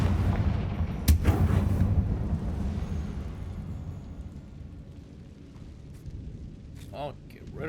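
Confringo spell blasts in the Hogwarts Legacy video game: a loud booming burst near the start with rumbling fire-like roar that fades, then a few quieter crackling effects toward the end, with talk over the action.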